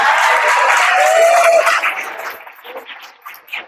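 An audience in a hall applauds after a poem about Rana Pratap, a dense burst of clapping that peaks early and then thins into scattered claps before fading.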